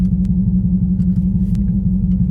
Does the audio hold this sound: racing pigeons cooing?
no